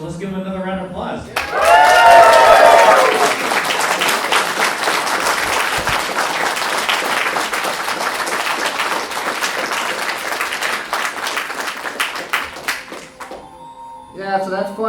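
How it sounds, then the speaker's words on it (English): Convention crowd at a retro game speedrunning panel bursts into sustained applause, loud and dense at first, then settling into steady clapping for over ten seconds before fading, with a voice briefly heard at each end. "let's give him another round of applause."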